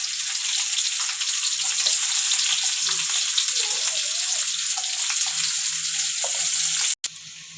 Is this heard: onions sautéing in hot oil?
yes